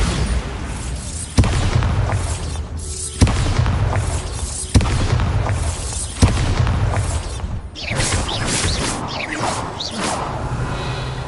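Repeated booming blasts from the Bombarda spell in the Hogwarts Legacy video game, several loud explosions in a row over dense rumbling game noise and whooshes, with no voice.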